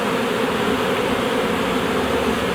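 Honey bees swarm around an open hive frame with brood and honey, making a dense, steady, close buzzing drone that stays continuous throughout.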